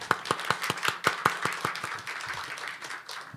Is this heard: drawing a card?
no